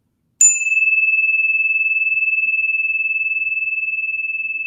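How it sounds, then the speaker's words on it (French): A chime used in a guided automatic-writing session rings once with a sharp metallic strike, then a single clear pure tone sustains and slowly fades, ringing alone in silence. "c'est un carillon qui calibre les énergies"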